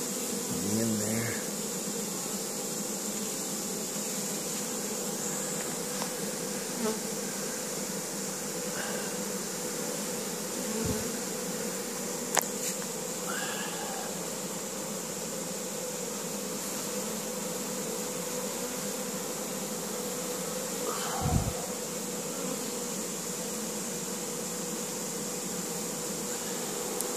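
A honey bee swarm buzzes steadily near the microphone while it is captured at an apiary, a faint continuous hum with occasional soft knocks and handling noises.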